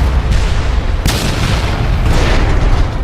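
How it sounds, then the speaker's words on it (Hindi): A plane crash explosion as a fan strikes the ground: a loud, sustained rumbling boom with a sharp burst near the start, dense and powerful throughout, with no voices. "लेकिन अगले ही पल पंखा जमीन से जा टकराया और एक भयानक विस्फोट हो गया।"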